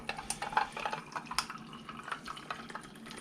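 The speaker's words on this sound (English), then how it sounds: "But pour this in. Coffee." Coffee trickles and splashes over ice cubes, with small crackles and clinks scattered throughout, quiet and close.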